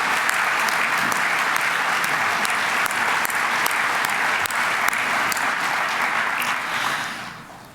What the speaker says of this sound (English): Mr. Mayor, I think one more round of applause is in order.